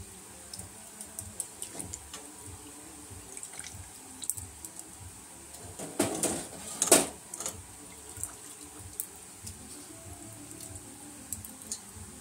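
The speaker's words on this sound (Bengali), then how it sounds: "এবার জল ঝরিয়ে জলগুলো চেপে চেপে সয়াবিন থেকে তুলে নেবো" Water is squeezed and drained from boiled soybeans: soft drips and trickles with faint squelches recur throughout, rising to a brief louder splash of pressed-out water about halfway through.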